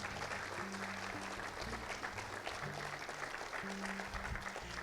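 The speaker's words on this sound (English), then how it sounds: "If we could all give them a round of applause." A convention crowd at EGX & MCM Comic Con 2024 applauds VR game developers after their presentation, a steady wash of clapping heard somewhat distant and faint under a low electronic hum.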